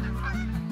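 A goose call lure in the hunting game The Hunter: Call of the Wild gives one short, loud, nasal honk over a low droning background, with no talking.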